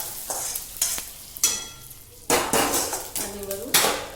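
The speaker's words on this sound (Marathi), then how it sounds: "तडका आपण डाळ भाजीवर टाकू" Red chilli tadka sizzling as it is poured over chana dal and moong dal palak bhaji, with sharp bursts of frying crackle, spoon stirs and utensil clinks in close, uneven pulses.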